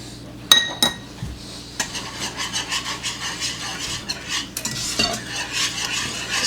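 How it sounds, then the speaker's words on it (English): Beer cheese dip ingredients with Worcestershire sauce get stirred in a bowl, producing rhythmic scraping and rubbing strokes of a utensil after a couple of sharp knocks at the start; close and fairly loud, with no talk. "Stir to combine"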